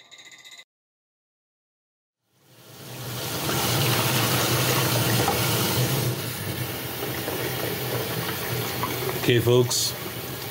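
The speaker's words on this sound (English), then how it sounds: "doing the final rinse here" Tap water pours steadily and loudly into a sink during the final rinse of developed Kodak Vision 800T film, starting after a short silence and continuing as a broad rushing stream, with a brief spoken line at the very beginning.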